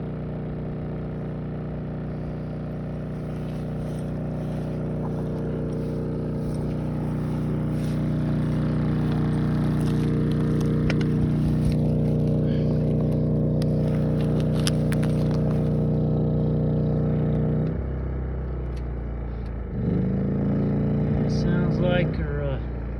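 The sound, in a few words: generator running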